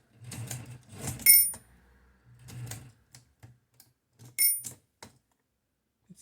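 Mechanical clicks and metallic taps from the tab brake of a Mercedes Modell 4 typewriter striking a small cog, heard as several short bursts separated by pauses, close and fairly quiet.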